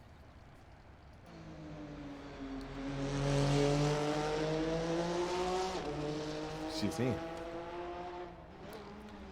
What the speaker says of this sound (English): let's listen to the replay of this car